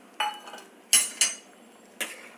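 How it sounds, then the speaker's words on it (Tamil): Cubed tomatoes go into a pot of cooking sambar with four sharp metallic clinks of a spoon against the pot, spaced irregularly and close by, with no talking. "இந்த சமயத்துலேயே நம்ம இந்த தக்காளி போட்டுடலாம்."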